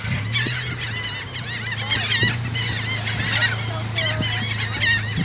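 Geese honk loudly and repeatedly close by, overlapping calls over a low steady hum.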